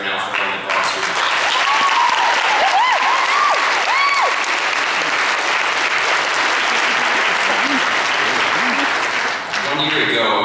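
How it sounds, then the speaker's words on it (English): A graduation audience applauding during a 2010 valedictorian address, loud sustained clapping from a large crowd filling the whole stretch, with scattered cheers and whoops rising above it. "let's hear a little round of applause right now for everyone that brought us here."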